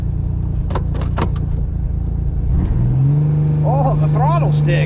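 A Ford Explorer creeps slowly in reverse, a low engine drone running throughout while a voice talks over it, the engine note rising and steadying toward the end.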